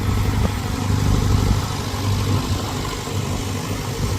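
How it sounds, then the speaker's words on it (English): A Bradford tractor engine runs at the Sheffield steam show, a steady low rumble that holds at a constant level throughout the clip with broadband outdoor noise. "I'm pretty sure that was a Bradford tractor"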